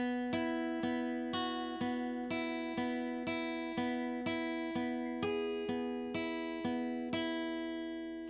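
Electric guitar picking a repeating riff, a steady pulse of plucked notes ringing over a sustained low tone, played alone and fairly quiet.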